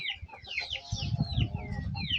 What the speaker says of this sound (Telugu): ఇక్కడ తింటుంది చూడు, ఈ కోడివే.